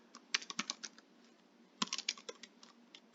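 Quiet typing on a computer keyboard in two short bursts of rapid, uneven key clicks separated by a brief pause.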